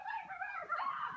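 A dog gives a short whining, yipping bark, one brief vocal burst of about a second, fairly faint and heard alone without speech.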